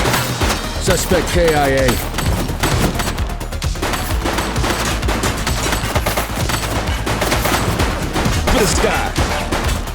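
Rapid bursts of gunfire from The Precinct, a police shooter video game, crackle under urgent radio-style voices and game music, continuing steadily across the whole stretch.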